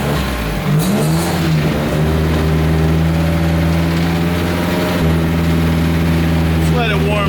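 A project car's engine runs steadily while warming up, a loud constant mid-pitched drone with a brief rev near the start and a slight shift partway through.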